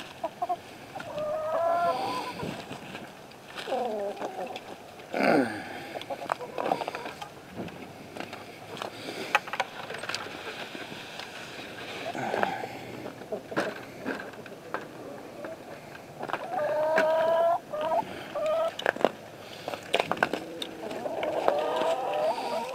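Chickens and a newly introduced rooster cluck and call near a coop, with repeated close clucks and squawks rising in bursts over steady rustling and farmyard movement; no talking.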